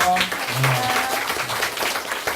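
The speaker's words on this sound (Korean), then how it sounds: "그 다음에 이쁜 분도 박수 한번 치시고" A seated crowd at a Korean book talk with a monk breaks into brief, even applause, with a voice speaking over the clapping near the start.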